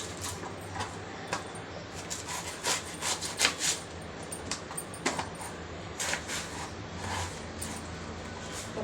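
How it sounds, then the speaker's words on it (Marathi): Cabbage being chopped for a quick vegetable dish, repeated close knife strokes with a rasping, scraping texture in an uneven rhythm, moderately loud over a low background hum. "तर आता सगळ्यात आधी आपण आता कोबी कापून घेऊया।"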